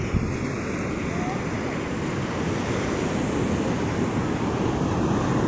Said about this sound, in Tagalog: Let's listen to the waves.